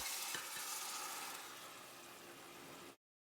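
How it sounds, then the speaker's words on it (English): Crushed tomatoes stirred in garlic and oregano oil in a pan, a soft, fairly faint continuous sizzle with a couple of light scrapes near the start, cutting off abruptly before the end. "Stir and let the tomatoes simmer for about 10 minutes"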